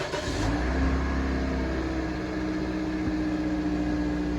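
A car engine cranks and catches during diagnostic testing, a brief burst at the start that settles into a steady, close engine hum with no talking.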